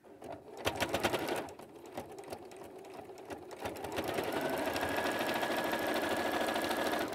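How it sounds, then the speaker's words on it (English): A sewing machine stitches along a previous seam while a hoop skirt is made, starting with short rattling bursts of needle strokes, then running in a fast, steady whirring stretch, close and alone. "I'm gonna get fairly close to just sewing right on that previous line that we just sewed before"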